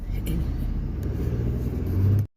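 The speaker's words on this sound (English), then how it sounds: "want to get away from big loud Bubba truck" A big, loud truck engine rumbles with a steady, deep drone close by, holding strong throughout before cutting off abruptly near the end.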